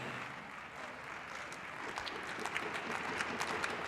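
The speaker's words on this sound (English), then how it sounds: "a ripple of applause going around the arena here in Graz" A faint ripple of applause spreads through a figure skating arena in Graz during the men's short program, distant scattered clapping that swells slightly toward the end, with no talk.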